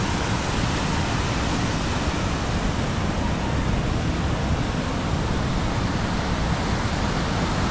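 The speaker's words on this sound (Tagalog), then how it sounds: "grabe, alon, ang lalaki." Large ocean waves breaking on a beach shoreline, a loud continuous roar of surf and wind filling the whole stretch with no clear pauses or voices.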